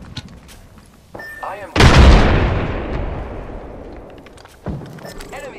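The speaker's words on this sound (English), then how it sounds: "Yeah, getting shot at." Apex Legends gunfire erupts in a loud burst of heavy shots that trails into a long rumbling decay, followed by another sharp report, set against quieter game sounds and bleeps.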